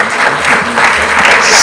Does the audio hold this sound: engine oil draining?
no